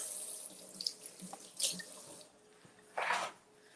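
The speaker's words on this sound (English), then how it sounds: "Let's give this a rinse" Tap water runs briefly over a tablespoon being rinsed at a kitchen sink while making cloud bread cinnamon rolls, with short faint splashes and a louder gush near the end, close and quiet, no talking.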